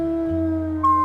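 Wolf howl in the video game WolfQuest, a single drawn-out tonal howl with steady pitch and a second higher voice joining near the end, clear and alone.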